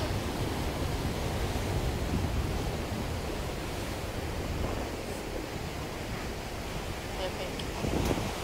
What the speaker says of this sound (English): I just love that power of the ocean, it's mad.